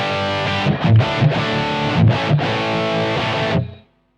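An electric guitar runs through a Boss Pocket GT high-gain preamp with the gain at 100, a thick saturated chord ringing loud and sustained with a few choppy restrikes, then cut off abruptly.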